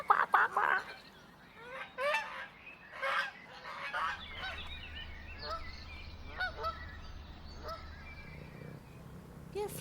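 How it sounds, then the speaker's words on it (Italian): Startled ducks flush from a puddle and fly off, giving a run of loud, repeated honking quacks that grow more scattered and fainter, over a low background hum. "spaventando alcune anitre che volarono subito via, gridando qua qua qua qua qua."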